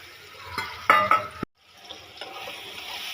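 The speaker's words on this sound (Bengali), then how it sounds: "মশলাটা ভাজা হয়ে গেছে। যেটা দিলাম আদা বাটা, লঙ্কার গুঁড়ো, হলুদ আর লঙ্কা" Tomatoes cooked down with chili powder, turmeric and ginger paste are stirred and fried in a pan, giving a few soft scraping stirs and a low sizzle, then a brief break before a quieter hiss continues.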